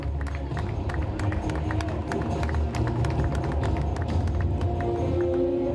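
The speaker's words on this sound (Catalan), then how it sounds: "Un fort aplaudiment per a totes elles." A hall audience gives steady, dense applause for the preselected candidates of La Roqueta-Arrancapins, many close, crisp claps forming a continuous rolling wash with a low murmur beneath.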